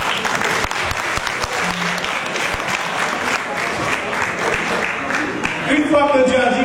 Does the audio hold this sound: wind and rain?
no